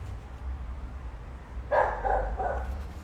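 A neighbour's dog barks in a short burst of a few yelps partway through, somewhat distant and moderately loud over low background rumble, with no talking.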